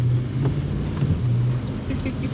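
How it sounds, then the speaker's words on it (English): Toyota 4Runner V8 engine running steadily, a low continuous rumble with a droning tone throughout, heard from inside or near the moving vehicle with some wind noise and no clear talk. "Oh, the engine just sounds so much better than the V6 did."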